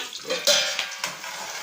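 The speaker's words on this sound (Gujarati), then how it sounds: "તેલમાં મૂકી દીધા છે સરવા." Chopped green chillies drop into hot oil for aloo paratha and give a bright hissing burst of sizzling with brief crackles and spits, close and fairly loud.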